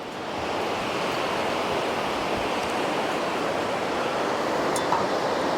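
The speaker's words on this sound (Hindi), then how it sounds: "मंदाकिनी नदी जो सीधा केदारनाथ से आती है, चोराबाड़ी ग्लेशियर से" The Mandakini river, glacier-fed from Kedarnath, rushing at the Rudraprayag confluence: a steady, loud roar of churning water, broadband and unbroken, with wind buffeting the microphone.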